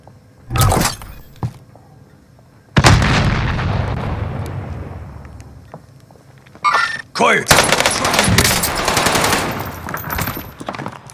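Rapid bursts of gunfire and booming explosions from the Pacific map of the video game Call of Duty Warzone, with loud sustained barrages and sharp shots, while players talk over the combat.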